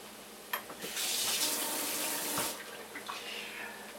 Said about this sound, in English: I'm going to rinse the spoon out.